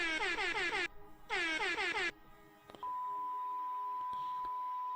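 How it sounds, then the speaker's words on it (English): Two long, loud blasts of an air horn sound effect, each a few seconds, followed by a steady electronic bleep tone with faint clicks, in Call of Duty Black Ops 3. "So we've got the air horn, we've got the bleep."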